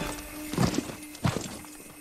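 Horse hooves clip-clop in the Ghost of Tsushima video game: two distinct heavy steps, close and moderately loud, over a steady low background hum.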